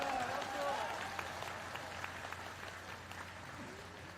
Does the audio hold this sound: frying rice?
no